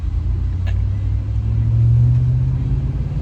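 2003 Chevy Tahoe with a 2.5-inch electric exhaust cutout open, a deep steady exhaust rumble close by that swells briefly as the engine is revved, then settles back.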